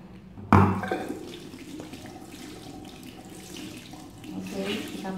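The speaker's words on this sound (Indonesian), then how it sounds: "Si produknya langsung ngalir dan gue bilas lagi sampai benar-benar produk yang nempel di" Beauty sponge rinsed under a running bathroom tap, water pouring steadily and splashing close by after an abrupt start, with some squelching and handling sounds as the sponge is worked under the stream.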